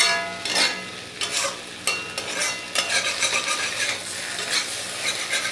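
Chickpea curry frying in a wok, a steady close sizzle under repeated scraping and stirring strokes from a spatula.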